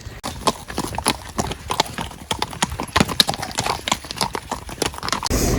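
Horses' hooves clip-clopping right after being unloaded for a show-jumping competition, a steady fast rhythm of sharp close hoof strikes throughout.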